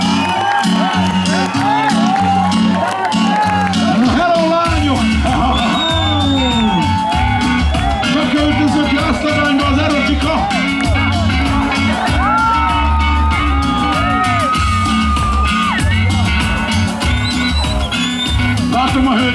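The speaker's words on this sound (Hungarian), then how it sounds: "nagy tapsot neki!" A large crowd at an outdoor town-day festival stage cheers, whoops and shouts loudly and continuously, with applause mixed into the dense, sustained roar.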